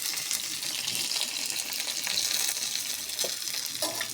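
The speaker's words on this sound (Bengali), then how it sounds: "এটা একটু ভেজে নিই।" Sliced onion, green chilies and whole cumin sizzle in hot oil in a pan, a constant bright hiss with occasional crackles and soft stirring scrapes, close and steady with no talking.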